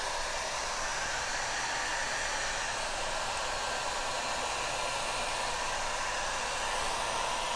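A hair dryer blows steadily on a mirror freshly coated in patina paint, a continuous loud whirring rush of air with no break or change across the whole stretch.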